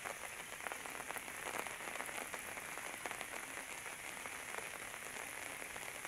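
Steady, moderate rain falls continuously on surfaces during flooding from Typhoon Enteng, a dense even patter with no voices.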